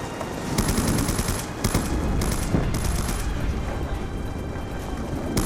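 Automatic gunfire in the Call of Duty Black Ops II mission Old Wounds, rattling in loud rapid bursts with short pauses between, over a constant rumbling game backdrop.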